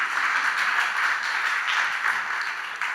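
Audience applause at a live speaking event in France, steady, dense clapping from a crowd filling the room at an even level throughout.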